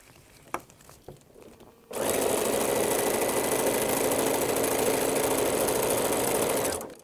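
Sewing machine stitching elastic onto a fabric bowl cover: after a few soft handling clicks, the motor starts up and runs in a loud, steady, close whirring drone for about five seconds, then stops.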